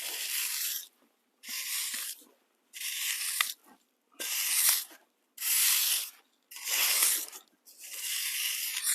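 A wooden board scrapes and pushes sand to level a paver bed, giving seven long, steady rasping strokes with short pauses between them, close and fairly loud, with no talking.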